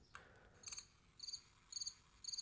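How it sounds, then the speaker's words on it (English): An HP Jornada handheld computer plays a synthetic chirping-cricket sound, four short bright trilled bursts in an even rhythm, faint and alone against a quiet background. "is just some sort of, chirping cricket"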